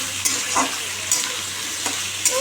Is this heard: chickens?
no